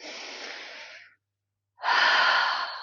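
Two deep breaths during a yoga Tadasana standing pose: a long, airy inhale or exhale lasting about a second, a short silence, then a louder, fuller breath. Both are close and clear, with no talk.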